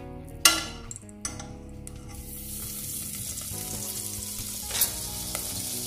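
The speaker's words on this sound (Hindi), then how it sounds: "सबसे पहले जो है पैन के अंदर मैं डाल रही हूँ 1 टेबल स्पून ऑयल का, और इधर मैं ले रही हूँ थोड़ा सा बटर।" Oil and butter sizzle steadily in a pan, with a few sharp clinks of a utensil against metal near the start and again toward the end.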